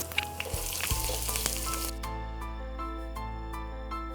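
Spices crackling and sizzling in hot oil in a pan with chopped garlic, a steady close fry with scattered sharp pops, for a Malayalam brinjal dal pulao cooked in a Milky Mist Magic oven.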